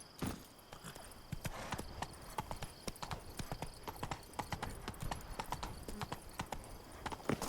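Horse hooves gallop in The Witcher 3, a steady run of clip-clop beats carried under ambient game sound with no talk.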